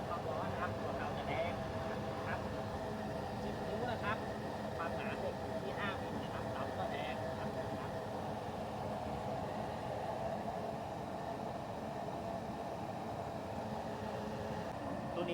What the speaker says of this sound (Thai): ก็จุดด้วยน้ำมันเครื่องนะครับ ถ้าเกิดว่าไฟเผาไหม้ได้ดี เป็น สีฟ้าแบบนี้นะครับ